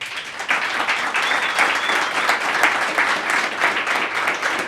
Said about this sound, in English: Give these three guys a round of applause.